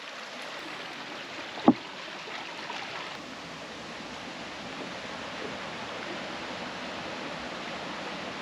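Spring water gushing out from beneath rocks at a mountain source, a steady broadband rush of flowing water throughout with one brief sharp knock near the start.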